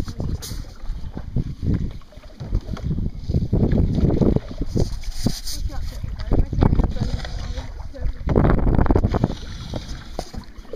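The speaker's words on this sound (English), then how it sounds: "And I need to be paddling." Oars or a paddle dip and stroke through water as a small boat heads toward a tree, with rough wind buffeting and splashy broadband washes rising and falling under occasional talk.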